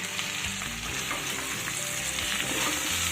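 Malabar spinach and vegetables for a vegetarian chorchori sauté in a pan with ginger paste and ground cumin. A continuous close sizzle mixes with stirring and scraping, with no one talking.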